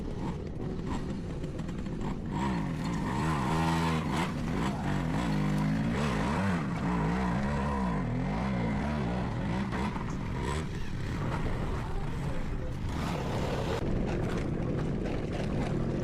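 A Suzuki Max100 motorcycle is ridden off-road over rocky ground, its small engine droning steadily and close, rising and falling in pitch with throttle changes as the bike bumps along.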